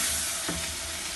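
Masala frying with tomato puree in a pan while making qeema lobia, giving a steady, dense sizzle and hiss that stays loud throughout with no pauses.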